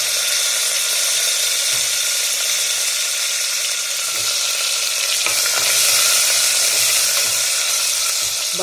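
Curry leaves and green chili sizzle and crackle in hot oil with cumin seeds, a steady close frying hiss filling the whole stretch with no talk, while preparing varyache tandul (barnyard millet) upvas khichdi.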